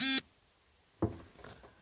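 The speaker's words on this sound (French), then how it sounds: "j'aurais dû couper mon téléphone" A mobile phone gives a short, loud electronic notification beep at the very start, followed by near silence and then some soft background noise.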